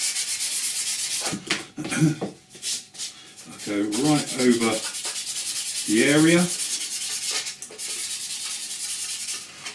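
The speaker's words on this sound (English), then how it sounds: "Next you can come in with your sanding sponges." Rough, steady rubbing of a sanding sponge against a hard plastic scale model kit of an F-14D Tomcat, scratching back and forth with pauses, while someone talks over it.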